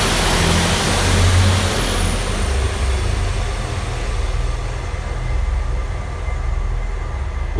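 Northern train 195131, a delayed Blackpool North to York service, pulls away from Church Fenton station with a steady loud rumble of engine and wheels that gradually eases as it draws off; no voices.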